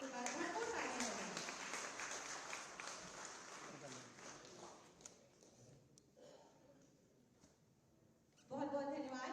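A dense burst of clapping rises from an audience at a state award ceremony honouring artists and athletes, loud at first and then tapering away before a voice returns at the end.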